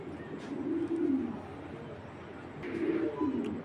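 Two bouts of soft, low pigeon cooing, one early and one near the end, with a quieter murmuring stretch between them.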